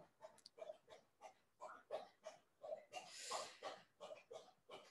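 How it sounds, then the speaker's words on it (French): A female dog moving about close by indoors at night, with soft snuffling, panting and shuffling sounds in an uneven rhythm, faint and low in level, with no clear speech over it. "Je ne sais pas si vous entendez les bruits autour de moi. J'ai ma chienne qui est très, très, très présente ce soir."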